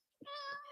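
A house cat gives a single drawn-out meow close by, rising and then holding steady for about half a second, with no talk over it.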